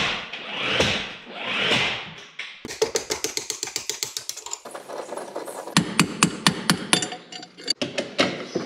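Pins being hammered out while fittings are dismantled, with rapid bursts of sharp metallic hammer taps in quick rhythmic runs, close and loud, following a few louder dull knocks.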